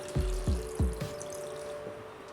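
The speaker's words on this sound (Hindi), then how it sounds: "अब करेलों में पानी डालेंगे।" Water splashes and pours onto bitter gourds in a few short bursts, close by, with quiet gaps between the pours.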